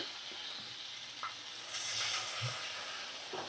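Water poured into a hot pan of spiced Bhola fish curry at medium flame, giving a steady broad hiss and sizzle with faint scattered clinks.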